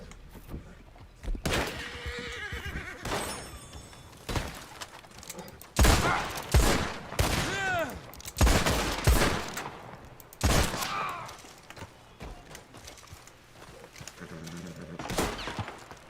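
Gunfire in the Red Dead Redemption Online video game, several loud sharp shots in irregular bursts with ringing tails, separated by quieter stretches of game ambience.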